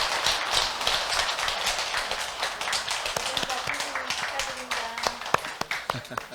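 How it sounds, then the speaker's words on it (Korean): Applause from an audience at a Buddhist dharma ceremony in a hall, a steady wash of clapping that thins toward the end into scattered individual claps, with faint voices underneath. "축하의 큰 박수 부탁드리도록 하겠습니다."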